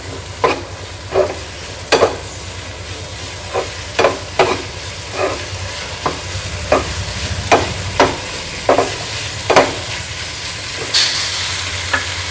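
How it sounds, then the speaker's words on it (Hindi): Capsicum frying with spices on a tawa over a full gas flame, with a steady sizzle and the rhythmic scrape of a spatula stirring every second or so, close and loud. "अब हम ये शिमला मिर्च भी डाल देंगे। गैस को फुल रखेंगे।"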